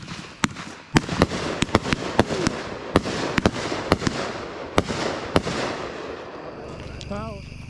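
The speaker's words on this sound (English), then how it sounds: "Homemade Slice. 2-inch. 66 shot." Homemade 2-inch, 66-shot slice fireworks go off outdoors at a birthday party, a rapid irregular series of sharp loud cracks and bangs over crowd noise, ending with a brief whistle.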